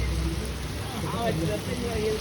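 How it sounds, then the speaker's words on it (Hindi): Heavy rain falls hard in Dehradun at night on a road beside passing cars, a dense continuous patter close by, with people talking over it. "बारिश कितनी तेज़ हो रही है"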